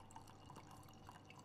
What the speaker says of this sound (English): pouring some wine for myself